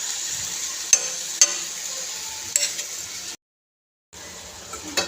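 Pulla bachali greens cook in a pan for a restaurant-style dal, giving a steady hiss and sizzle with a few sharp clinks of a utensil against the pan, broken by a brief silent gap.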